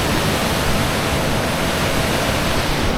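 Fast, roaring water at Gangotri near the source of the Ganga, a dense, steady broadband rush that fills the whole space, loud and close without pause, with no voice audible above it.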